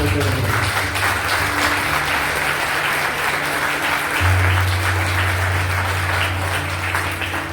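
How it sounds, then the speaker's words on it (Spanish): A church congregation applauds the Lord during a Spanish-language sermon, a broad, sustained wave of clapping, with a low steady hum of instruments underneath. "Aplaudan al Señor"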